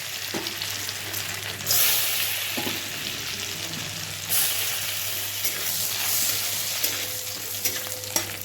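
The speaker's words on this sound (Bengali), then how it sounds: "কড়াইয়ে ঘি গরম করতে দিয়েছি এর মধ্যে কাজুগুলো দিয়ে দিলাম" Cashews frying in hot ghee in a wok make a continuous close sizzle with occasional swells of stirring, steady and unbroken, with no voices.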